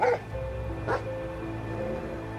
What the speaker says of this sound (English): He lets Wrigley, the dog, into the back room and closes the door behind him.